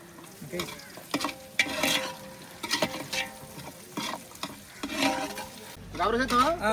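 Ginger and garlic fry in a village-style pot for a country chicken curry, sizzling under repeated stirring scrapes and clanks that come in uneven bursts, close and moderately loud.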